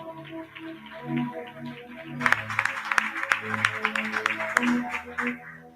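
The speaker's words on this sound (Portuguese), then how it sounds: "Não cansemos de aplaudir." A church congregation breaks into applause over sustained music, the clapping swelling in partway through into a dense, lively patter of many hands that carries on to the end.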